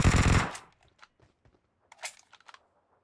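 Gunfire in PUBG Mobile opens with a loud rapid automatic burst, followed by scattered sharp shots and faint clicks, then a second short cluster of louder reports.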